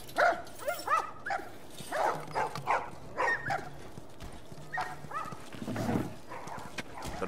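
Dogs barking in The Last of Us, scattered short barks and yelps in a quiet in-game scene, with a few hoof-like clops underneath.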